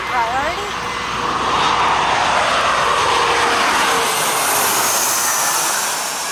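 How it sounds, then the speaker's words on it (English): An airplane landing at Gravelly Point roars close and loud, its jet engine noise swelling and holding steady overhead before easing slightly at the end, with people talking faintly underneath. "That plane is landing"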